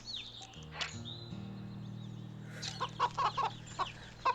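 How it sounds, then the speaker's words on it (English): A chicken in the game Wytchwood clucks in scattered short bursts during the second half, over a steady low ambient drone with a few soft tonal sounds before. "Come back, chicken. I crave an egg from you."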